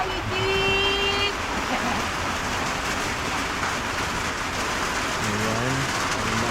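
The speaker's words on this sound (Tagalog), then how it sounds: "Ayan, ang lakas ng ulan." Dense, steady rain noise fills the scene, with a passing vehicle hum and a few brief tonal sounds layered on top.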